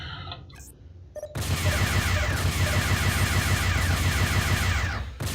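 Rapid, sustained spaceship weapons fire in the space combat game FreeSpace 2, a dense continuous volley that starts abruptly after a brief quiet lead-in, stays loud throughout and cuts off near the end.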